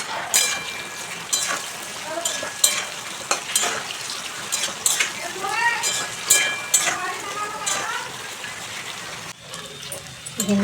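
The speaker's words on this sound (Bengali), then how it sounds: "তেল গরম হয়ে গেছে, ভেন্ডি ভেজে নেব।" Okra fries in hot mustard oil in a wok, a steady close sizzle and crackle with occasional stirring clatter, while a voice talks over the cooking noise.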